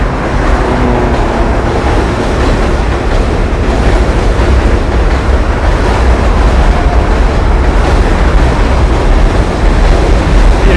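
A New York City subway M train rumbles past on a Brooklyn commute, a loud, continuous, close roar of wheels and cars with no break.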